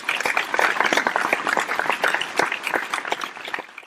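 An audience claps for a child after a short talk at a Tamil Catholic gathering, a brisk, dense burst of hand claps that stays close and lively for a few seconds before stopping.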